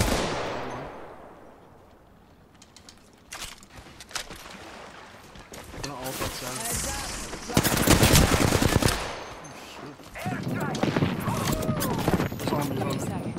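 Bursts of automatic weapon fire and single shots in the video game Apex Legends, rapid rattling volleys that grow denser and louder toward the end, with other combat effects between them.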